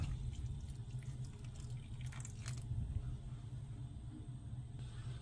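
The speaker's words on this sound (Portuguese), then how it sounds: "Eu vou colocar 100 gramas de uva passas de molho, cerca de 10 minutinhos, em água quente." Hot water splashes from a tap or kettle over about 100 grams of raisins in a bowl, a soft continuous trickle and pour with a few brighter splashes early on.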